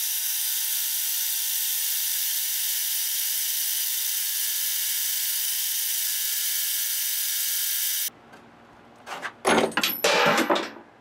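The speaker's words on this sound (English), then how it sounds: "So I got this machine running as fast as it'll go," A workshop machine on a DIY coaxial indicator setup runs at full speed as a steady, loud, high-pitched whine. It cuts off abruptly near the end, followed by a few close mechanical clicks and rattles.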